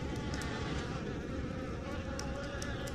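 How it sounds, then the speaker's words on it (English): A swarm of bees drones loudly and continuously around the listener in a Dungeons & Dragons session, a thick steady buzz with faint clicks above it. "A fucking cloud of bees just swarm around."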